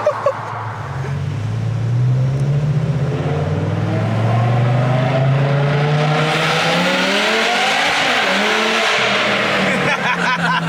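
BMW E60 M5 with aftermarket headers revs hard, a loud, rising engine howl building steadily over several seconds before a brief lift and renewed throttle near the end, heard close.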